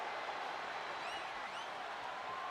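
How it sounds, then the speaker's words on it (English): A large arena crowd in the WWE 2K25 wrestling game keeps up a dense, steady roar of cheering and applause at a no-holds-barred match, with faint whistles rising over the wash. "And do you hear this capacity crowd?"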